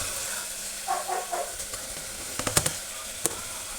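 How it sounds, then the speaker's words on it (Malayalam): Chopped tomatoes sauté in a pan with ginger and garlic for a home-style beef curry, giving a soft sizzle under a few scattered spatula scrapes and clinks, with no voices. "ടൊമാറ്റോ ചേർത്ത് നന്നായി വഴറ്റുക."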